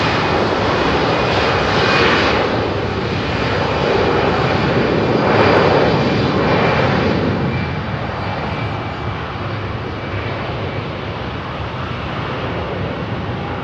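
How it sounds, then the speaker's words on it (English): Rolls-Royce Trent jet engines on an airliner departing westbound at London Heathrow Airport give a loud, steady roaring hum that swells, then eases slightly as the aircraft moves away, with no talk. "Listen to the hum of those Trents, man."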